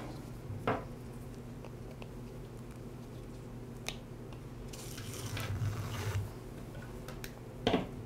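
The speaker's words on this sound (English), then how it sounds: "Now remove the rope from the starter pulley." Rope being worked off the starter pulley of a Ryobi string trimmer's recoil starter, with faint scattered clicks and a few soft sharp snaps over a quiet background, close up.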